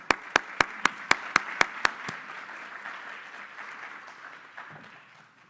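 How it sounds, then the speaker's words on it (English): Audience applause for a speaker named Barb: a burst of eight or nine sharp, evenly spaced nearby claps, then a softer wash of crowd clapping that gradually fades out. "let's give Barb a round of applause"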